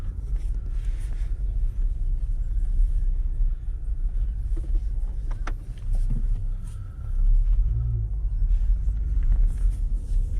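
A Range Rover Velar drives along a road, its low rumble of engine and tyres steady and close from inside the cabin, with a few faint clicks and a brief lull partway through.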